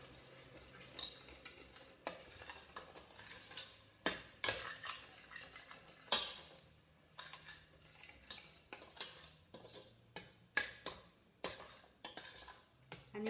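A spoon scrapes and clinks in a pan as tomatoes are stirred into chicken curry, with irregular repeated taps and scrapes over a faint low sizzle, close and fairly quiet.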